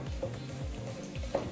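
Garlic frying in olive oil in a pan gives a faint, steady sizzle with low stirring bumps underneath, quiet and close, with no talk.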